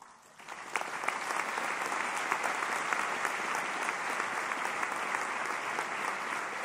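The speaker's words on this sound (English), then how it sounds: "If we could have a quick round of applause for all of our PhD graduates" Sustained applause from a commencement audience for PhD graduates, dense even clapping that swells in quickly and holds steady throughout.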